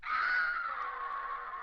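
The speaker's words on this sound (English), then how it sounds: "There's a screaming sound in here that I really like" A single sustained, high-pitched scream sound effect from a 2021 song lasts under two seconds, slowly fading slightly, heard alone.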